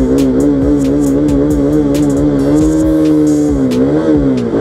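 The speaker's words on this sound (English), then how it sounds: "I have to accelerate like crazy, dude." A motorcycle engine revs hard and loud up close, a steady strained roar with rising and falling pitch as it accelerates through a protest in the Bengaluru rains, with scattered clatter and knocks.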